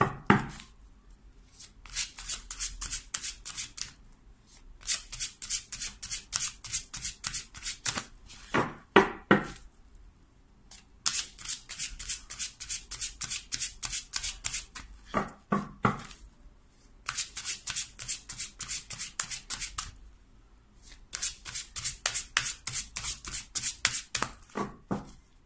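Playing cards being shuffled during a tarot-style reading, several riffle bursts separated by short pauses, crisp and close with no talking.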